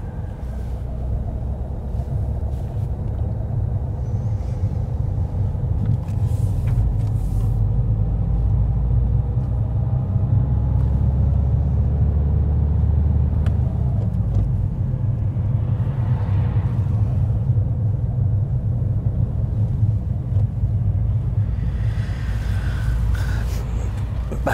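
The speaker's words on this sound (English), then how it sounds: "Back to normal traffic now." Road traffic heard from inside a moving car, a constant low engine and tyre rumble with passing vehicles swelling and fading now and then, and a little talk in the cabin.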